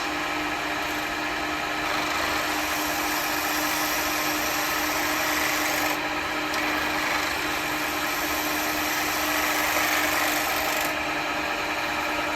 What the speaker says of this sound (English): As you see, the different bevel gives me a better cut there